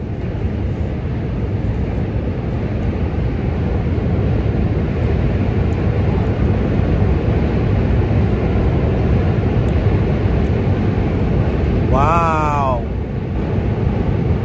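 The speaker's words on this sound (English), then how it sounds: "thunderous train in the background." A subway train crossing the Manhattan Bridge, heard from nearby in Chinatown, New York City, as a long, steady, thunderous rumble; a single brief exclamation comes near the end.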